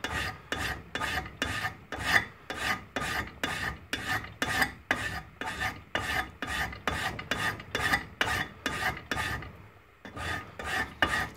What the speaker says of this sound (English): we're just gonna grind this, grind it and grind it and grind it until we create a burr on the underside